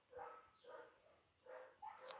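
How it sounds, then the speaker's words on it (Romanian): Dogs bark outdoors at a house, faint and distant, with several separate barks and yips spaced out in short bursts. "Latră câinii afară"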